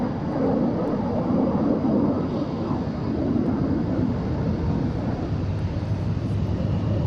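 Blue Angels jets sit on the runway at Boeing Field, their engines producing a continuous, loud, broadband roar heard from a distance with no break across the whole stretch.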